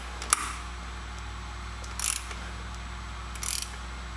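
A ratchet socket wrench with a 14mm closed socket turns a through-axle bolt on an e-bike front wheel held on a stand, giving three brief, quiet bursts of ratchet clicking separated by pauses.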